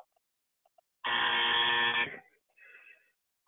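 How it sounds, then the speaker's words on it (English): A quiz-show wrong-answer buzzer sounds once, a loud, harsh electric buzz lasting about a second, followed by a fainter short tone, with no talk over it. "I think he knew he was going to answer that just so he could cue up that buzzer"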